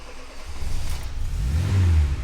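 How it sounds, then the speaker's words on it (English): A 1989 Bertone X1/9 with a 1500cc engine cranks and fires up, then revs with a rising, rough mid-low roar that swells louder toward the end, close by and with no talking. "sweet revving 1500cc engine"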